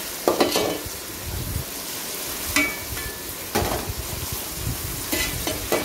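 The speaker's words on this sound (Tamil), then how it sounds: "புதினாவும் அந்த எண்ணெயில் நல்லா வதங்கிட்டோம்." Mint leaves and onion sauté in oil for a one-pot chicken biryani, giving a constant sizzle broken by a few sharp clanks and scrapes of a spoon against the pot.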